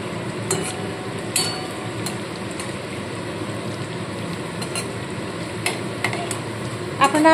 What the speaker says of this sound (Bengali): ওই পিঠটা ভালো মতো লালচে লালচে ভাজা হলে তারপরে আবার উল্টে দেবো।